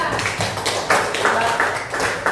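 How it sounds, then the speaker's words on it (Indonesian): A classroom group claps for group 3 after its presentation, a loose patter of hand claps running steadily throughout at moderate loudness. "Oke, kita tepuk tangan pada kelompok 3."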